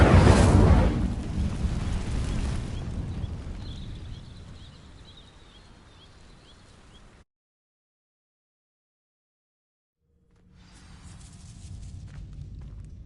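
An Incendio fire spell igniting dry vines in a Harry Potter video game, a loud whooshing burst of flame that decays into a lingering crackle, then silence before a soft rumbling return.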